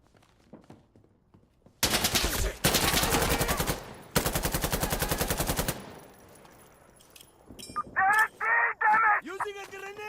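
Gunfire in the Death Stranding Director's Cut video game: two long bursts of rapid, loud automatic fire close by, then quieter scattered shots and clatter, ending with squawking, bird-like calls.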